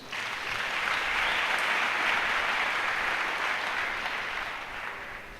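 A church congregation applauds during a sermon, a dense, steady roar of many hands clapping that swells quickly, holds, then slowly tapers off.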